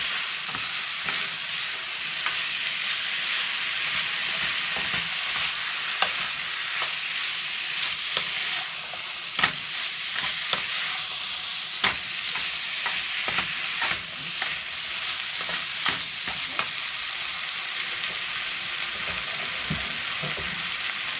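Rice stir-fries in a hot pan, a steady sizzling hiss broken by frequent scraping and clacking strokes of a utensil stirring it, loud and close throughout with no talk.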